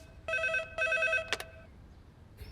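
A telephone rings in two short electronic trills, clear and close, followed by a brief clatter as it is picked up in an indoor setting.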